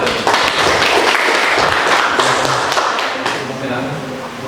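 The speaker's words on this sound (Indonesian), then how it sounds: "Tepuk tangannya untuk kelompok 1." A burst of applause from a group, fairly loud and steady, fading slightly toward the end, with a voice speaking underneath.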